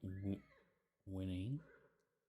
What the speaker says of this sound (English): neighing.